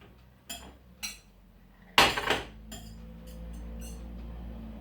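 A saucepan is clattered and set down on a stovetop over low heat as butter melts for béchamel sauce, with a few light knocks followed by one louder metallic clank and a faint steady background hum.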